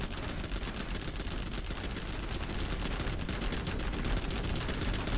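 Minigun in the strategy game Zero Hour firing a continuous, dense stream of rapid shots, loud and steady throughout with no pauses.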